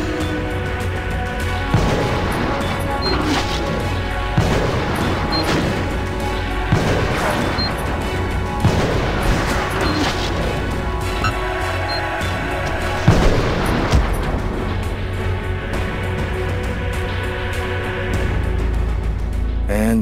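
Dense gunfire and crashing impacts during a police shootout in the video game Indigo Prophecy, loud and sustained throughout, with repeated heavy blasts over a constant roar of action.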